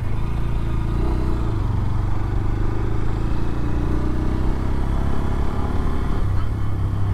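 A Bajaj Pulsar N125 motorcycle engine idles steadily and loudly nearby, a smooth continuous rumble with no change in pitch.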